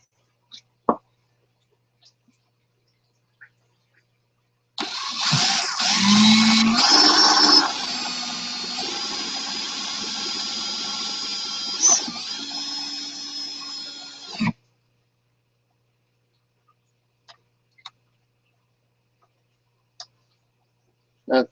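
A power drill boring into a plastic T-syphon part for an aquaponics build runs in one continuous whirring burst of about ten seconds, close and loud, its pitch dropping partway through as it catches, with quiet surroundings before and after.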